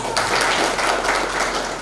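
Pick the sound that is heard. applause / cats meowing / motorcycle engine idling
applause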